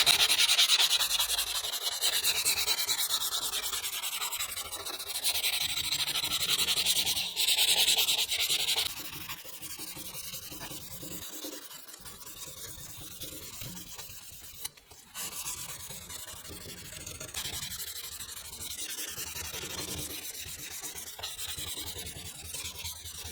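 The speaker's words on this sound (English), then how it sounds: "Next came another long sanding session." Sandpaper rubbed by hand along a Damascus steel knife blade forged from bearing rollers, a steady, close-up scratchy sanding that runs continuously in long strokes.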